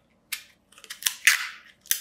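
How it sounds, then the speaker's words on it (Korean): Short crisp rips of adhesive tape being peeled off a roll for a children's yarn craft, several quick sharp tearing bursts close by in quiet surroundings. "테이프를 이렇게 딱 떼어서"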